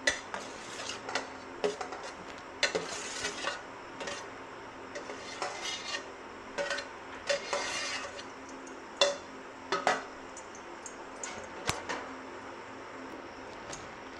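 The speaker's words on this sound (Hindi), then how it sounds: "पैन में सारा आम को डालेंगे इस तरह से" Mango pieces clatter and scrape against a metal pan, with irregular knocks and clinks of utensils over a steady low background.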